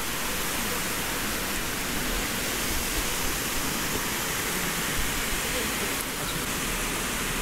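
Waterfall in the Lauterbrunnen valley, Switzerland, giving a steady, dense roar of falling water that stays constant and loud for the whole stretch, with no breaks.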